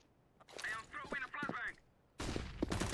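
Someone talks briefly, then loud sustained gunfire erupts from Counter-Strike: Global Offensive, a dense, close burst of rapid shots filling the final second.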